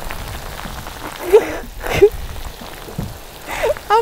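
Sudden downpour at an aquaculture fish pen at sea, a steady close patter of raindrops drumming on surfaces, broken by a few short excited vocal squeals and gasps.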